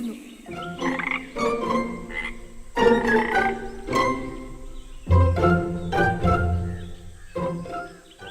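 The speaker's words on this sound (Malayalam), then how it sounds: "അവിടെ അടുത്ത് ഒരു കുളത്തിൽ കുറെ തവളകൾ താമസിച്ചിരുന്നു" Cartoon-style frog croaks from a pond, several frogs calling in bursts with a steady rhythm, fairly loud and close, with no voices over them.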